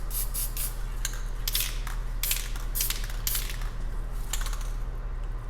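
A Rust-Oleum Quick Color spray can lets out a string of short, sharp hissing bursts, several in quick succession, over a steady low electrical hum.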